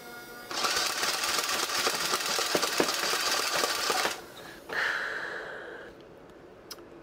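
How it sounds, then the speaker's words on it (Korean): A small electric motor in a Dart Zone foam dart blaster whirs up loudly and steadily for several seconds, then a brief second spin-up and a faint click as it winds down. "아래쪽에 버튼 누르면은 모터 들어가고요. 위쪽에 방아쇠를 당기면은 다트가 발사됩니다."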